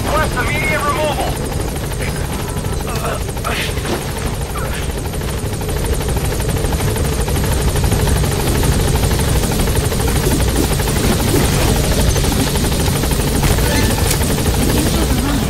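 The support helicopter's rotor in Metal Gear Solid V thrums loud and constant throughout as it hovers near the landing zone, with a radio voice talking over the steady drone.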